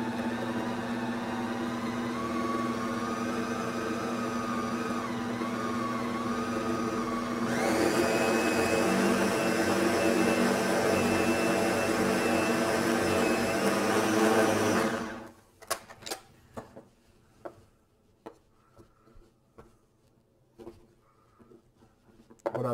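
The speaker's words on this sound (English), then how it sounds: "Depending on your blender, you can probably have it quite cold and it would still handle it okay." A blender grinds cold brisket into ground beef with a loud, whining motor drone that rises in pitch partway through, then cuts off, leaving scattered clinks and knocks of the jar and utensils.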